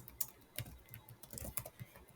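Someone types on a computer keyboard while building a simple HTML and CSS portfolio website: quiet, irregular clicks and taps come in short bursts, close and soft.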